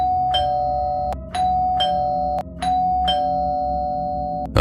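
An electronic doorbell rings four times in a row inside a house, each loud sustained chime cut off sharply before the next begins, with no other sounds around it.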